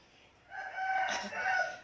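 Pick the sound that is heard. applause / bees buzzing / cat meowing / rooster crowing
rooster crowing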